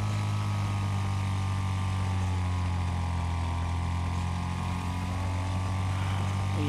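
Racing lawn mower engines in the Wreckfest video game, a loud continuous droning whine with a steady buzzing hum, several engines blending into one close mass of noise with no talking.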